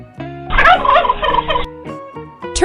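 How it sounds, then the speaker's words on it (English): A turkey gobbles loudly and close up in one rapid, warbling burst, with a few short clucks before and after. "Turkey."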